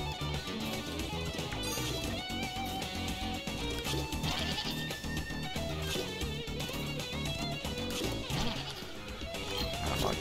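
Goats bleating in the video game Duck Tales, in the Snowy Mountains stage, short electronic bleats repeating over busy chiptune music and game effects.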